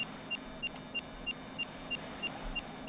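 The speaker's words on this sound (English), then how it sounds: "I wanna disarm that alarm right now." A ship's alarm in a video game beeps steadily, a short high-pitched tone repeating roughly every third of a second over a low engine-like hum, with no one talking.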